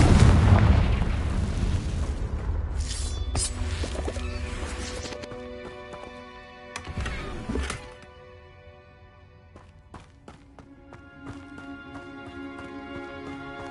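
Confringo spell blasts in Hogwarts Legacy burst with a heavy boom and rumbling crash, followed by a second explosion and ringing, chiming magical tones as the noise fades.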